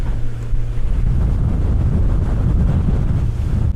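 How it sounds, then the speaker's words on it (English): A speedboat cuts across the sea near Sharm El Sheikh, Egypt, its engine a constant low roar blended with rushing water and heavy wind buffeting the microphone, loud and close throughout. "letting me drive the speedboat"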